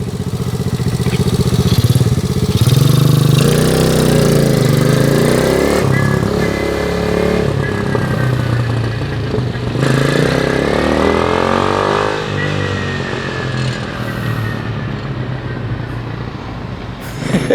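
A lowered mini truck's small engine runs steadily and loud throughout a ride, with some revving and shifts in pitch, no talking.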